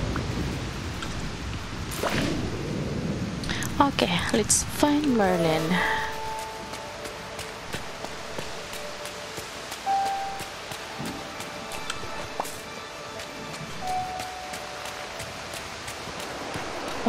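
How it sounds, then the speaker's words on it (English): Heavy rain pours in Disney Dreamlight Valley, a steady hiss of downpour running the whole time beneath game tones and chimes, while a person talks briefly over it. "Wow, it's pouring really heavy."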